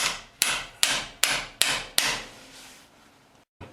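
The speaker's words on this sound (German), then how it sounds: "Mit dem kleinen Hammer ging es gar nicht, also der schwere." Five loud, evenly spaced blows from a heavy hammer ring out close up against a Porsche gearbox being worked on to free a screw, each hit decaying quickly before the next, followed by quieter shuffling.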